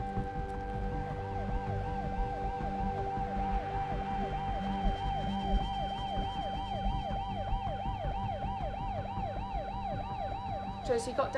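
An ambulance siren wails steadily in a rising and falling cycle, loud and continuous over traffic rumble.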